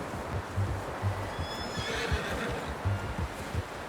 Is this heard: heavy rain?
no